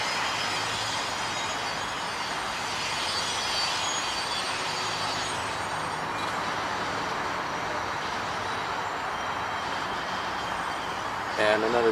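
A massive freight train rolls slowly past in Riverside, California, its steady broadband rumble and faint wheel squeal continuous and fairly near throughout, with brief voices underneath.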